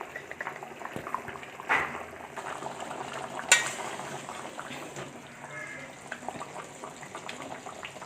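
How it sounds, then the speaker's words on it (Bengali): Potatoes simmering in a pot of water for Bengali-style egg curry, giving a steady soft bubbling hiss with a couple of brief clinks, no voices. "আলু সিদ্ধ হতে আর একটু বাকি আছে, কিছুক্ষণ সেদ্ধ করে নিতে হবে আলু।"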